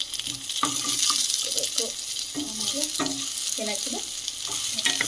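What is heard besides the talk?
frying onion and chillies in a pan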